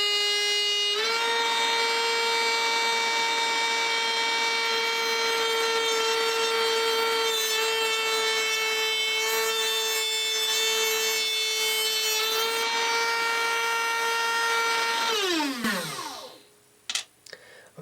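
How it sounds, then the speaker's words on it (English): A Dremel rotary tool cuts into a piece held with a C-clamp, giving a loud, steady high-pitched whine that runs for about fifteen seconds before spinning down and stopping, followed by a few small clicks. "I'm going to try it this way first with the Dremel C-clamped down"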